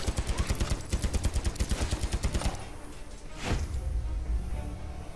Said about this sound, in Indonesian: Sekarang kita coba tembak aja ke